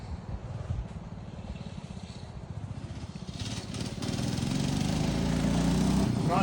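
A mini bike engine runs with a steady buzzing putter that grows louder and rougher as it revs up toward the end, heard close by.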